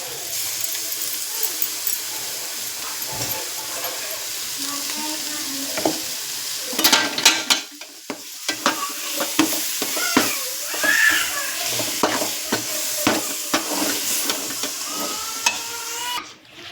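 Loud, continuous sizzling of a ground paste for Nalleru (Cissus quadrangularis) curry frying in a pan, broken by repeated scraping and clinking as it is stirred.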